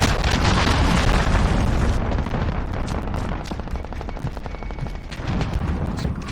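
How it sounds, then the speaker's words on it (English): Heavy explosion and battlefield gunfire from a cruise missile strike in the video game Call of Duty: Modern Warfare, a loud continuous rumbling blast with dense rapid bursts of shots layered over it. "Enemy cruise missile."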